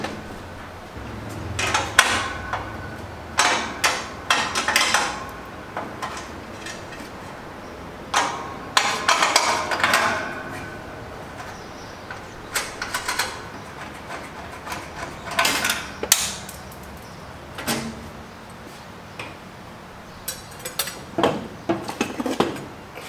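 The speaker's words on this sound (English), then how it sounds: "Grab some wrenches." Metal wrenches clink and rattle as they are grabbed and handled in a garage during a race car build, with irregular bursts of clattering tool sounds separated by short quiet gaps, close and fairly loud.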